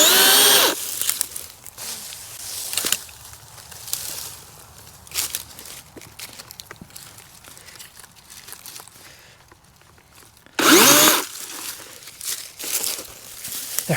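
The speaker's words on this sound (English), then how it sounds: "we're back in business with the mighty electric chainsaw" An electric chainsaw whirs loudly in short bursts, cutting through small pine trunks in a cemetery clean-up, with crackling branches and quieter rustling in between.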